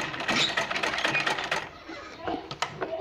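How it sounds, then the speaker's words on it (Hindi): A sewing machine stitching lace onto a blouse runs in a fast steady whir for about a second and a half, then stops, followed by a few light taps and handling clicks nearby. "इस पर मैं सिलाई करूँगी"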